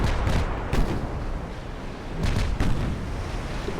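Warship guns firing armour-piercing shells in the naval game Ultimate Admiral Dreadnoughts, with 16-inch Mark I guns mentioned. Loud, dense booming blasts in a few heavy bursts over continuous rumbling, with no talk.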